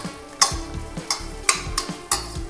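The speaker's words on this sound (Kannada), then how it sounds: "ಈರುಳ್ಳಿ ಮತ್ತೆ ಗೋಡಂಬಿ 2 ಬ್ರೌನ್ ಕಲರ್ ಆಗಬೇಕು. ಸ್ವಲ್ಪ ಅಲ್ಲಿವರೆಗೂ ಅದನ್ನ ಫ್ರೈ ಮಾಡ್ಕೊಳ್ಳೋಣ." Onions and cashews fry in a pan for matar pulao, a low sizzle under a few sharp scraping strokes of a spoon stirring them at irregular intervals.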